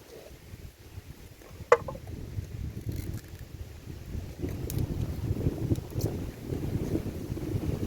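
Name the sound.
strong wind blowing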